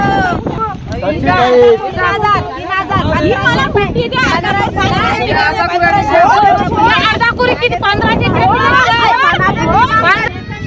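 A fish auction at Revdanda fish market in Konkan fills the air with a dense hubbub of many overlapping voices, loud and close, with wind buffeting the microphone.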